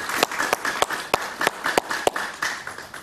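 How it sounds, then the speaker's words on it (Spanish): A few people clap for Guillermo on a television talk show. The sharp, distinct claps come at an irregular rhythm over a low background hum, sounding close and sparse rather than like a full crowd. "Un aplauso para él"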